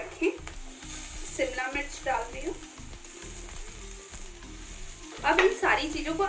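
Vegetables with garlic and beans frying in a pan over a medium flame for soya brown fried rice make a steady close sizzle with stirring scrapes. Someone talks lightly underneath.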